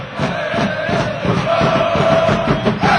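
A crowd of 15,000 roars and cheers in a Los Angeles stadium during an LA Galaxy game. The loud, continuous wash of voices never lets up.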